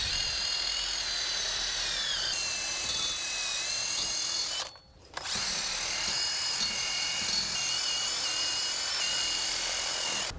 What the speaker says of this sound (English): I'm gonna clean this up with a wire brush.